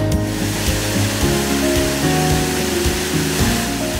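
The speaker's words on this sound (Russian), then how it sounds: "Водопад Айхор, по-другому Веста, обрушивает реку на 8 метров вниз." Aikhor (Vesta) waterfall on Sakhalin, where a river drops about 8 metres: a steady, loud rushing roar of falling water fills the whole stretch, with faint tonal sounds layered underneath.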